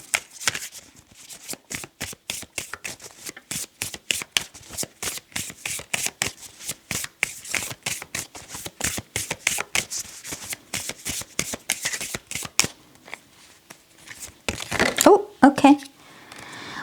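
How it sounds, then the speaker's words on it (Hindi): Tarot cards are shuffled in a long run of crisp, rapid riffling flicks, close and fairly loud, and then a voice speaks briefly near the end. "फाइनल कार्ड्स देखते हैं इस पायल के लिए"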